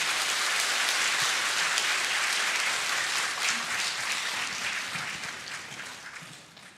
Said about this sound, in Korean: 우리 출산 장려금 드릴 때 박수로 함께 축하하도록 하겠습니다